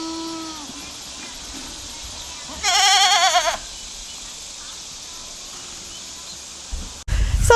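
A milk goat bleats once, loud and close, a wavering nasal cry lasting about a second, set against quiet farmyard background with faint distant calls and a brief clatter near the end.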